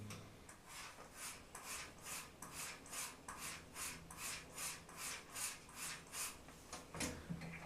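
A straight razor stropped on an English brittle leather strop, a steady run of about a dozen soft, even scraping strokes in a regular back-and-forth rhythm, close and quiet with no talking.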